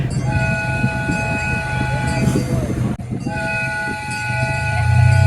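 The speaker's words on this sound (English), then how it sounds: "Train leaving for River's Edge. All aboard for River's Edge." A train rumbles steadily with sustained horn-like tones sounding over the engine, the noise swelling louder toward the end as it pulls away.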